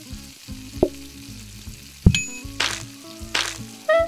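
Onion frying in the cooking video game PlateUp, a sizzling sizzle with brief bright kitchen clinks and dings over steady game music, no talking.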